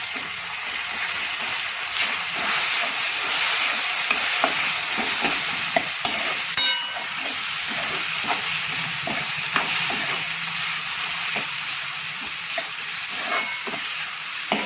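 Tomatoes and ground masala frying in a pan, a continuous hissing sizzle with repeated light stirring scrapes, close and steady, no voices.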